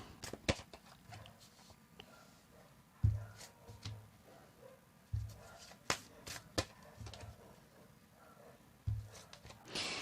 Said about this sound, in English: Another shuffle, they say.